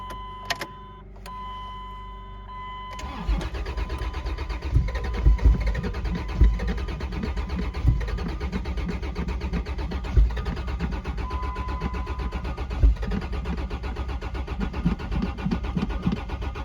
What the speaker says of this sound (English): We're gonna try to get her started today.